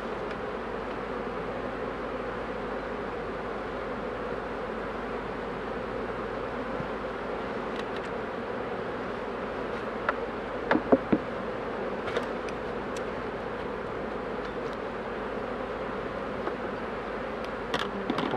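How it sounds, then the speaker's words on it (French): Dense, steady buzzing of many honeybees at a hive fills the air close by, a continuous drone with a few faint clicks and knocks, no voices. "les abeilles, ça va très très vite"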